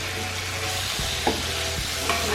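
Snake fish tipped into sizzling fried masala and stirred in a village kitchen pan: a steady, close frying hiss with a few soft knocks and scrapes from the spoon.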